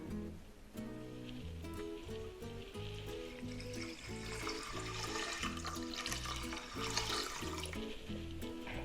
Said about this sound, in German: Ich gebe dann auf dem Reis Wasser ein